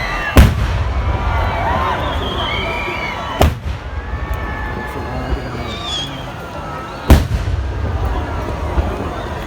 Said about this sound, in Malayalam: ചടങ്ങുകളൊക്കെ കഴിഞ്ഞ് വെടിക്കെട്ടായി